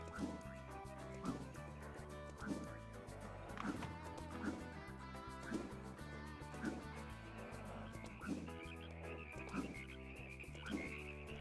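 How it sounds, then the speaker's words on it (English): Frogs in the video game Ty the Tasmanian Tiger croak in a steady, repeating rhythm over game music, each croak a short, regular pulse. "I love those frogs jumping animation"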